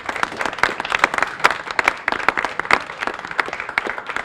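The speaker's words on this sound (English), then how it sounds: "How about a big round of applause for our 8th grade students who are doing an amazing job here at the school." An audience at a school event for an electric school bus claps in a steady burst of applause lasting several seconds, with many hands at moderate distance and no talking.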